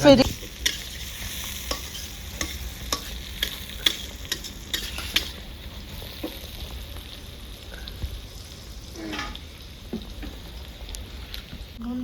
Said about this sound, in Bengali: পেঁয়াজ এখন ভাজা হচ্ছে